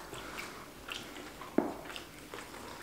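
Soft close-up chewing on a bite of fried shrimp po' boy, faint squishy munching with one sharper crunch midway, no talking.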